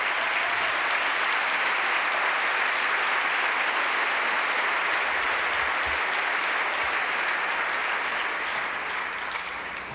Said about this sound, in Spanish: Damos un aplauso.